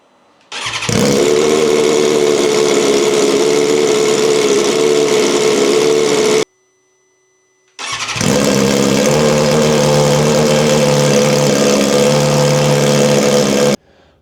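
Motorcycle with its exhaust valve deleted starting up and idling loudly nearby, a steady throaty drone that cuts off, falls silent briefly, then fires again and runs on evenly.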